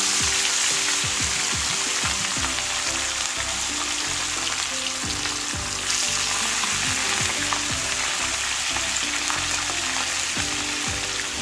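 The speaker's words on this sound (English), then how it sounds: "I will now start the frying of the fish" Fish for Jamaican brown stew fish frying in hot oil, giving a loud, steady, close crackling sizzle with bursts of spattering and occasional stirring or shifting, with no talking.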